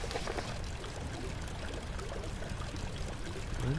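Water pours and trickles steadily from a loose, leaking pipe in Amnesia: The Dark Descent, a continuous splashing stream filling the whole stretch at moderate loudness with no voices.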